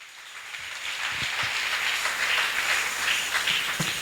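Congregation applauding in a church, a steady wash of many hands clapping together, fairly loud and sustained for the whole stretch with a few louder individual claps and no speech.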